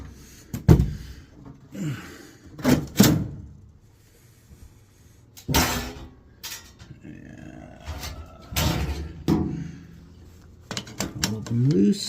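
Screws being backed out of an HVAC unit's access panel with a driver, several distinct clanks and metallic rattles at close range separated by pauses, plus faint handling noise.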